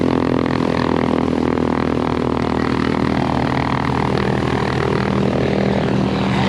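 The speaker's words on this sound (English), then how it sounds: "This guy's just taking off here." A small plane at an airplane display day in Petaluma, California, taking off, its engine droning steadily and loudly nearby with a rough, buzzing texture throughout.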